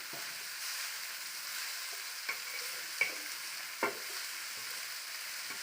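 Food frying in a pan is stirred, with a steady soft sizzle and a few quiet scraping clicks of the spoon against the pan, close by and with no talking.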